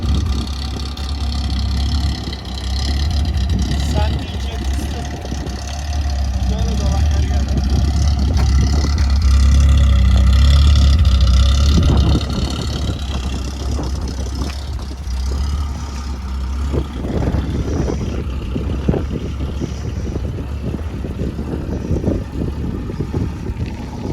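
A Tofaş car engine with a modified exhaust rumbles low and deep, swelling louder for several seconds as it revs, then settling back to a throaty idle.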